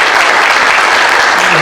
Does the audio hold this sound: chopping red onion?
no